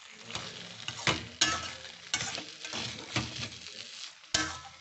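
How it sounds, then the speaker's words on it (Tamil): Semiya upma is stirred in a pan, a soft sizzle broken by repeated scraping strokes of a spoon against the pan, close and fairly quiet, with no talk. "நம்ம மூடி எடுத்துட்டு கலரி விட்டுக்கலாம்"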